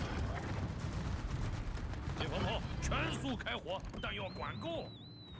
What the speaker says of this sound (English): we're getting some shots in on the Kutuzov